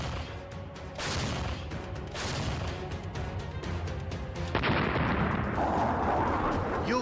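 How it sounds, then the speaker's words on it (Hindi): Artillery shelling from the war in Ukraine, Russian bombardment around Donetsk, heard as a series of loud booming blasts and sharp cracks, several impacts in quick succession with rumbling aftermath, fairly close and dense. "बारूदी धमाकों का ऐसा शोर सुनाई दे रहा है"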